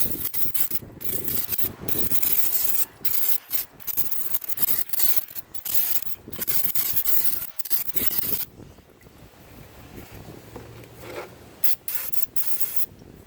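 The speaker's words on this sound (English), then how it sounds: "Just gonna spray this with some brake clean" Repeated bursts of brake cleaner aerosol spray hiss, close and loud, in short and long pulses separated by brief pauses, with some scraping and rubbing handling noise, during rear brake work on a 2014 Acura MDX.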